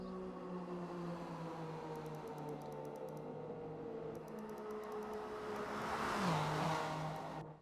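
Race car engines in a Le Mans racing video game hum continuously at low volume, a steady droning whine with a downward pitch shift late on as another car seems to pass, with no talk.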